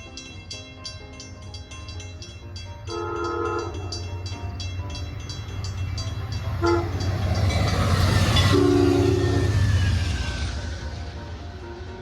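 A train passing a level crossing with repeated loud horn blasts, ringing crossing bells and a steady rumble of railcars building to a close, heavy roar.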